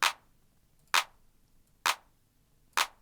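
A classic 909 drum machine hi-hat, pitched down a semitone, ticks four times at an even pace, just under a second apart. Each hit is short, crisp and fairly quiet, alone with no other sounds.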